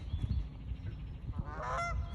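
Geese honking near water during a morning outdoors, a few nasal honks building to a louder call near the end over low rumbling background noise.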